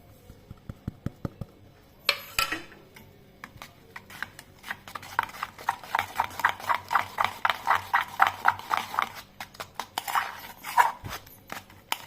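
Rapid rhythmic clinking of a whisk beating an egg mixture with spices in a bowl, a steady run of close, bright taps with a few pauses.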